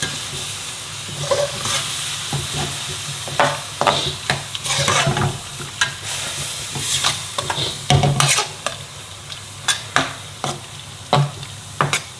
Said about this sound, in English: once the rest of the tomatoes are in, a bit of water, it'll be simmering on that